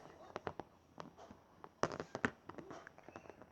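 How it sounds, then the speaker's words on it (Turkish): Scattered sharp pops, irregular and fairly quiet, like popcorn kernels bursting in a pot, with a brief cluster of louder pops midway. "Ben de patlamış mısırları patlatayım"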